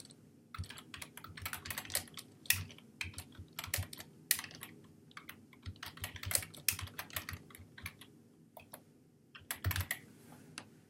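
Someone types an answer on a computer keyboard, a soft, close run of irregular keystroke clicks in quick bursts with short pauses, fairly quiet throughout.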